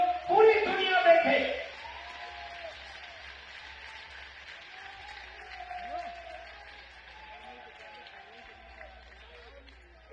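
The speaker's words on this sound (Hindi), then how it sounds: "जोर से एक बार इस युवा देशभक्त धर्म भक्त के लिए ताली बजाइए" A crowd at a Sanatan Hindu unity procession claps loudly in a brief burst that fades after a second or two, leaving a low murmur of voices and rustling behind.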